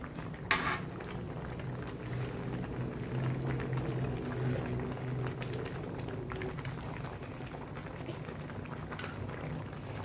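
A pot of spicy Thai tilapia soup at a rolling boil, with a steady bubbling churn and soft patter throughout, nearby, broken by a few sharp clinks of pot or lid, with no talk.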